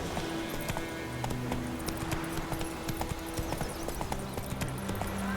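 The horse Roach gallops in The Witcher 3, with a steady, rapid clip-clop of hoofbeats running throughout, close and prominent over layered game ambience.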